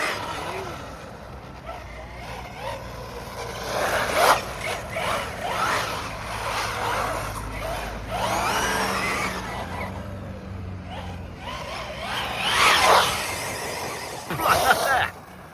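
A Team Corally Spark XB6 RC car drives on grass, its electric motor whining in rising bursts while the tyres rustle through the turf, with moderate scuffs and a few louder passes.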